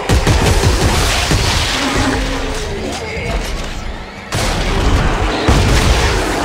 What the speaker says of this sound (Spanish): Ese fue el disparo secundario, ¿cierto?